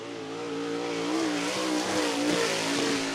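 Late model race car on a qualifying lap at Cottage Grove Speedway, its engine droning loudly and steadily at high revs with a rising pitch, close and alone without talk.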